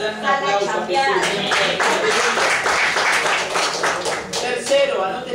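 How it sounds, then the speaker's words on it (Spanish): Church congregation clapping for Jesus during a sermon: steady, dense applause lasting several seconds, with voices mixed in underneath. "¿Cuánto le dan un aplauso a Jesús?"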